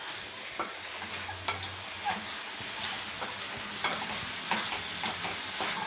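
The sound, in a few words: stirring chicken with turmeric frying in a pan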